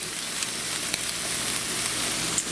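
Food fries in a pan with a dense, continuous close-up sizzle, steady and fairly loud, with only faint ticks of popping and no voices.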